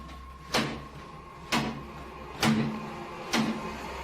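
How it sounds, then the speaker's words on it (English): A kitchen cupboard door bangs shut four times at a steady pace, roughly one sharp knock per second, each hit loud and close over a faint constant background hum. "The culprit in the kitchen cupboard, whose door is banging over and over again."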